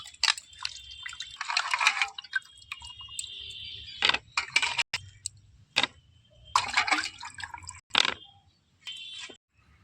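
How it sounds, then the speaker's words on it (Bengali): Peeled raw potatoes lifted out of a bowl of water in a kitchen, with a series of close splashes, drips and clinks in irregular bursts and short pauses between them, and no voices. "এখন আমি জল থেকে খুব ভালোভাবে পরিষ্কার করে তুলে নেব"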